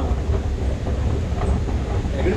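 A light rail metro train runs at the SeaTac airport station, giving a steady low rumble with faint rail clatter throughout, loud and close.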